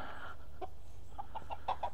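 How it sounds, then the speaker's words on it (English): Pure Orloff rooster and chickens on a farm giving a few short clucks, one after another and growing slightly louder toward the end, over steady low background noise. "F1, right there is one of my pure Orloff roosters."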